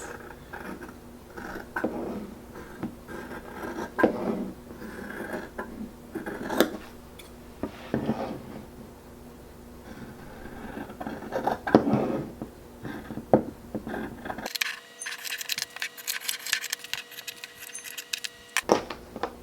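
Scissors cutting through fabric for hair bows, close and quiet, with irregular snips and crisp slicing over a soft handling rustle.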